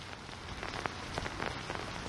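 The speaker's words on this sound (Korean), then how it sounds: "현재는 시야가 보이지 않을 정도로 비가 거세게 내리고 있습니다" Heavy typhoon rain pours down at Gukdong port in Yeosu, a dense, steady hiss of drops striking surfaces with no voices.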